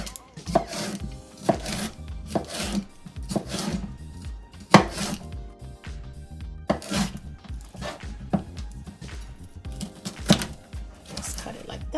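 A sharp knife slicing a bell pepper on a cutting board, a series of crisp chopping thuds at an uneven rhythm, with a person talking over the cuts.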